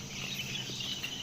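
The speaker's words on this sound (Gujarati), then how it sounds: "આ મધમાખીનો અવાજ છે ને છેક બહાર આવતો હતો" A swarm of many bees buzzing outdoors, a steady, dense insect drone that holds at an even level throughout without any voices.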